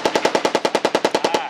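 Full-auto burst from a PM 63 Polish machine pistol: about fourteen sharp, evenly spaced shots in rapid rhythm, loud and close, with no talking.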